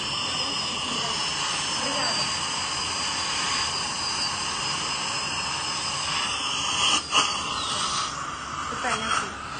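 A dental turbine drill retouching a tooth gives a steady, high-pitched whine over a bed of airy hiss, with a couple of brief louder bursts toward the end.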